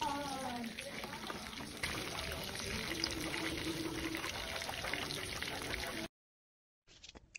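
Water pours steadily into a pan for several seconds, then stops abruptly; a faint clatter follows after a brief silence.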